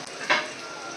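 Small onions fry in hot oil with fennel seeds and popped mustard seeds, a close, steady crackling sizzle with a brief stir scrape partway through.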